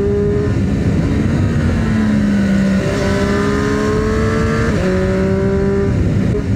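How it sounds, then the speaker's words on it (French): A Triumph Street Triple 765 RS motorcycle engine roars loudly and close on a road in Corsica, its pitch climbing through the gears with brief dips at each shift. "La sonorité elle est dingue."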